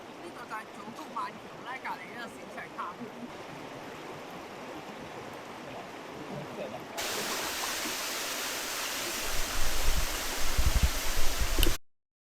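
Biwa Falls beside the Iya vine bridge on Shikoku, Japan, sends out a constant, even rush of falling water that grows noticeably louder and fuller partway through before cutting off abruptly.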